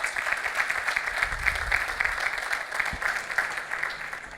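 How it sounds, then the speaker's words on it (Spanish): A seated audience at an interdisciplinary event on addiction prevention applauds a 14-year-old girl named Donatella, a steady round of many hands clapping in a hall, moderately loud and even throughout. "Les pido un aplauso para ella."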